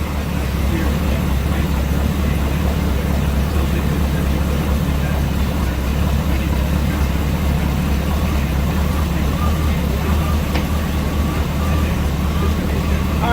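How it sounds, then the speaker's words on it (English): An engine idling after an oil change with its fuel line disconnected, left running until it burns through its fuel, producing a loud, steady, unbroken drone with no change in pace. "I'm going to disconnect the fuel line and crank the engine back up and let it run out of fuel."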